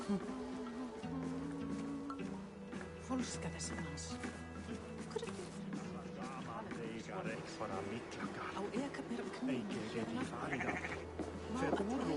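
Sheep bleating in the video game Assassin's Creed Valhalla, several calls scattered over a steady musical and ambient backdrop, fairly quiet in the mix.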